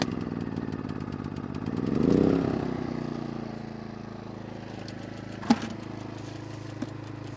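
A small gasoline pressure washer engine on a mobile detailing setup runs steadily with a rattling mid-pitched idle, swelling briefly early on before settling, with a couple of sharp clanks near the end.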